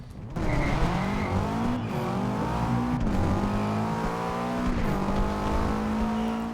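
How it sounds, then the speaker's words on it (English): A bus in Forza Horizon 2 launches hard, its engine note climbing steadily and loud for several seconds with a brief tire squeal at the start, and no voices over it. "This thing launches like nothing else, and I'll show you guys that. Also, the engine sounds really nice."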